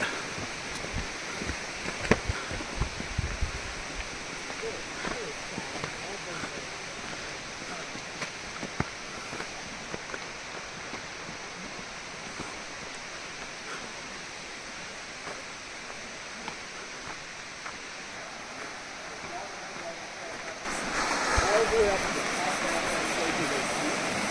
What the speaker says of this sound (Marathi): इकडे एक सुंदर झरणा